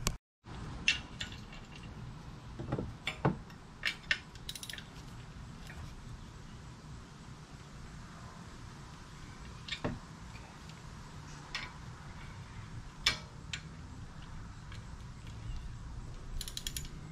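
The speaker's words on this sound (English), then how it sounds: "All right, tighten up. Let me get a small wrench for that." A small wrench ratchets while tightening bolts on the front brakes of a 2018 Audi S3, giving scattered sharp clicks and ticks over a quiet background.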